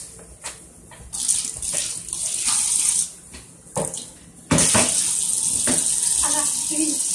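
Tap water runs into a cup in a home kitchen, a bright splashing stream that starts and stops in several bursts before a longer steady pour, with faint sounds in the background.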